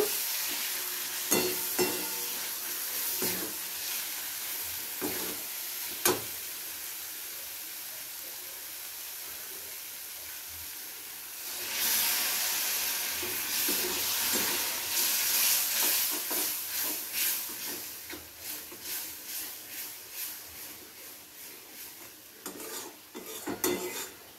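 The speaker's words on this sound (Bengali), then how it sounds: "একটু জল দিয়ে মশলাগুলোকে খুব ভালো করে কষিয়ে নেব" Spice paste for an Aar fish kalia stirred and fried in a pan with a splash of water: a steady sizzle with scraping spoon strokes and occasional clinks of metal, growing louder and busier midway, close and without talk.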